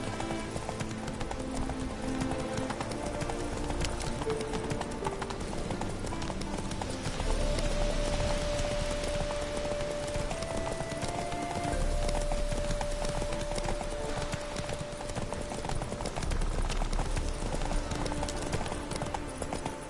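Roach, a horse in The Witcher 3 video game, gallops with a steady, continuous drumming of hooves over game music and ambience, and a faint voice is briefly heard under it.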